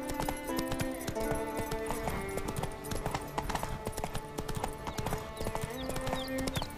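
Hooves of Roach, the horse in The Witcher 3: Wild Hunt on PS4, clip-clopping in a steady, rapid rhythm throughout, close and clear over a sustained tonal game soundtrack.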